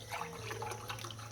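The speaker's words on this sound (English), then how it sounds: "We're gonna pour 2 cups of milk" Milk pours steadily from a carton into a cooking pot for farina, a continuous soft splashing and trickling over a low steady hum.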